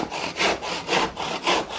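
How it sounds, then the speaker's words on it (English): A hand saw, tilted at an angle, cuts through wood on a workmate bench, giving four rhythmic rasping push-and-pull strokes that are close, steady and unaccompanied by talk. "And we can put an angle on the saw now,"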